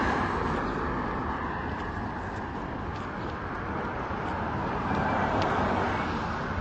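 Steady broadband roar of a jet aircraft passing overhead, loud and continuous throughout, with a faint hiss above it.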